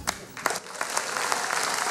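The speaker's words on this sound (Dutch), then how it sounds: "uw warm applaus" Applause swells from a concert audience at a fanfare band performance in Hoogeloon, starting with scattered claps and quickly building into a full, dense wash.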